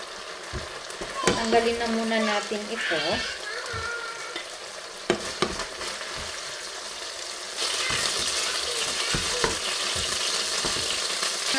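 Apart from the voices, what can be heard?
onion and garlic frying in oil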